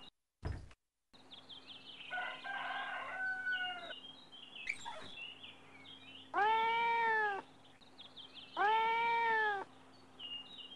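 A little cat in a video game meows twice, long and drawn out, loud and close over a low farmyard hum, following softer clucking and crowing fowl noises.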